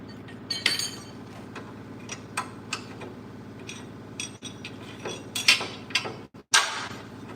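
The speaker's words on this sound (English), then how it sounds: "I dropped my daggone sockets." Dropped metal sockets clatter in a garage while a 1984 Cutlass front suspension is being removed, scattered sharp clinks and rattles near the mic over a low hum, louder bursts toward the end, no talk.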